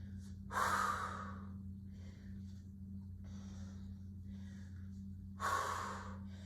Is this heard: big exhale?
yes